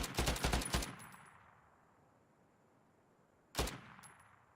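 AK rifle fire in the WWII shooter Battalion 1944: a rapid burst of loud, close automatic shots with a ringing tail, a quiet pause, then one more short burst.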